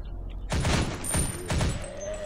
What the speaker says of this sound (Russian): Это автомат. Коснитесь и удерживайте для стрельбы.